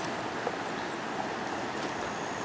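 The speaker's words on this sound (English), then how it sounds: "Lovely bit of river." Steady rushing of the Thompson River in Gippsland, Victoria, Australia, near a gorge, a constant broadband wash with no voices.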